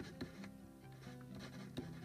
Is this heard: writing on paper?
yes